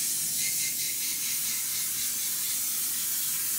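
A steady aerosol spray hisses continuously over lace wig lining, bright and close, with no pauses for the whole stretch.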